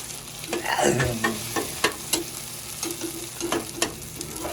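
Sisig frying in a pan and being flipped, with a loud close sizzle and repeated scraping and tapping of a spatula in an uneven rhythm.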